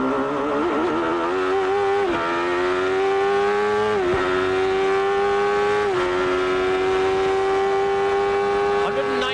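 A 1993 IndyCar race car's engine, heard onboard through the keyhole corner, revs hard and climbs through its 6-speed gearbox, with each shift clearly dropping the pitch before it rises again. The engine sounds loud and close, with a voice talking over it.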